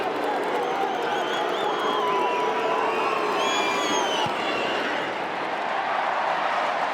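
Australian rules football crowd behind the goals at a 2005 West Coast Eagles vs Western Bulldogs match, a steady broad roar of voices with scattered whoops and cheers, loud and continuous throughout with a commentator faintly underneath.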